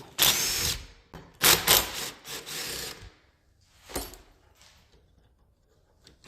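A power tool buzzes in loud bursts as it spins bolts out of the primary clutch of a 2020 Polaris XCR 850 snowmobile, with two long runs followed by shorter, fainter ones and pauses between.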